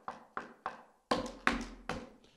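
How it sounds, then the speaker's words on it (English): Knuckles rap on a door in two groups of three: three light, evenly spaced knocks, then a pause and three heavier, louder ones, close by in a quiet room with no talking. "behold, I stand at the door and I knock"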